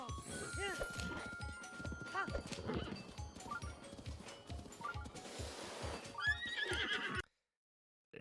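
Repeated horse whinnies and neighs ring out over steady clip-clopping hooves, with voices talking throughout before an abrupt cutoff into silence.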